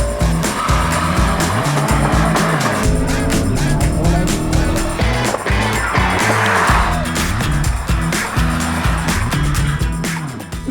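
Hot hatches, a Hyundai i30N, Renault Megane RS, Peugeot 308 GTi and Mini JCW, launch hard in a drag race, their engines roaring loud and continuous with tire squeal, under a steady, dense backdrop.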